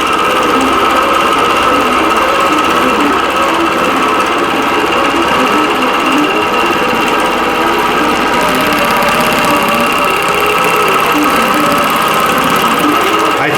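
A longarm quilting machine stitches a quilt in a feather flurry design, giving a steady, loud mechanical whir with a rapid needle rhythm that runs continuously throughout.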